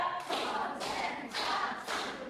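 Four loud unison claps from a group in a classroom session, struck at an even, steady pace, each a crisp burst of many hands with a short tail.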